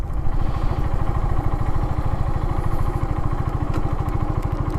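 A Kawasaki W175 motorcycle engine pulses in a fast, steady thump up close as the bike accelerates through first, second and third gear, loud and continuous with no talking.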